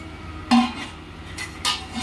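Boondi snack being mixed with other ingredients in a metal vessel gives a few separate clinks and scrapes, close and moderately loud, with no talking.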